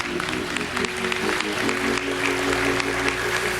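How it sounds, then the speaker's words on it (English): Audience applause at a televised memorial tribute, a steady, dense wash of clapping that fills the whole stretch at even loudness with a faint musical hum beneath. "please give his family another round of applause."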